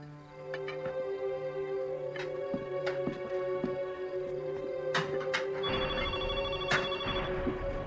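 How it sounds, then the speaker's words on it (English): A landline telephone rings repeatedly in a quiet indoor setting, its steady electronic bell tones returning in regular bursts while a low tonal music bed hums underneath, with no one speaking. "That evening, Chester and I received a phone call."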